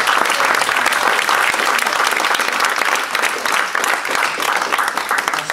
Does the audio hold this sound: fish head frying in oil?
no